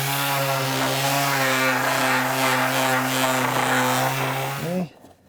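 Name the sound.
power sanding saw marks off pine door trim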